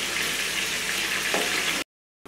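Fish sizzles steadily in hot oil in a pan, a close, bright crackle that runs on without pause, then cuts off briefly and resumes.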